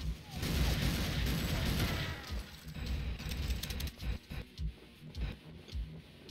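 A grenade explosion in Soldat makes a dense, loud rumbling blast, followed by scattered, choppy gunfire bursts that grow sparser toward the end, with speech present.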